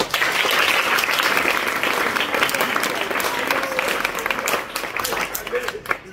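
A church congregation applauds in a loud, dense burst of clapping that carries on steadily, thinning slightly toward the end, with crowd voices blended underneath.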